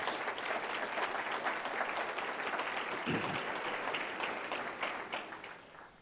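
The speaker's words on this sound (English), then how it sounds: "Let's give these gentlemen a round of applause." Audience applause for honored guests, among them a judge, at a foundation lecture: a steady, dense wash of many hands clapping that holds for several seconds, then tapers off toward the end.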